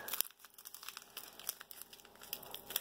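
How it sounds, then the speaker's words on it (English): Crinkly rustling of Russian EMERCOM and Kazakh military ration packets being handled and snipped open with scissors, close and fairly quiet, with a few sharper clicks and tears and no talk. "I'm going to go ahead and grab scissors and just cut the tops off of these."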